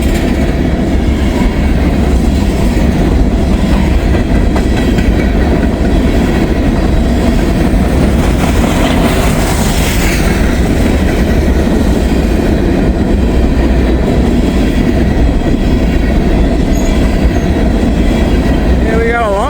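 A CSX or Norfolk Southern freight train rolls past at night, a loud, continuous rumble of wheels and cars with steady clatter filling the whole stretch.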